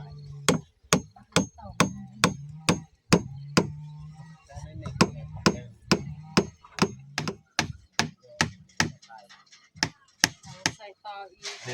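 Hammering on wood while building a chicken coop: a long, steady series of loud, sharp strikes about two per second, with brief pauses and faint talk underneath.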